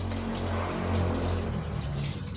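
Water poured into a bottle, a steady close filling gush with a low hollow resonance that holds for a couple of seconds, with no talk over it.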